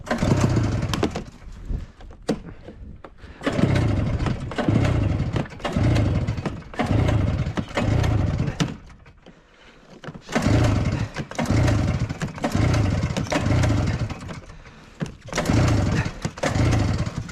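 A 1978 Arctic Cat Jag 3000 snowmobile fires up and runs loud and close, its two-stroke engine surging in repeated bursts with brief drops and a near-stall around the middle before catching again.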